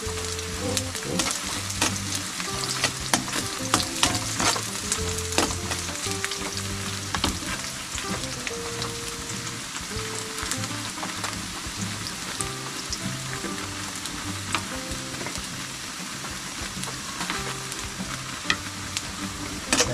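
Food frying in a pan until golden brown, a steady close sizzle and crackle running throughout with occasional spatula scrapes and no talking.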